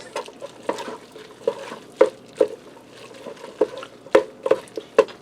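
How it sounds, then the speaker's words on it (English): Bits of an 8-ounce block of cream cheese being stirred into noodles for beef Lombardi in a Ninja Speedi, with close, wet squelching stir strokes and spoon clicks repeating roughly every half second. "I'm going to get this stirred down into the noodles."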